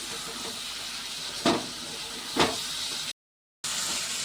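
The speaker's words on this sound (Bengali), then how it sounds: "এবার একটু ভালো করে সসগুলোর সাথে সব কিছু মাখিয়ে একটু কষিয়ে নিচ্ছে।" Chicken stir-frying with sauces in a pan, a steady broadband sizzle with two sharp scrapes of a utensil and a brief drop to silence near the end.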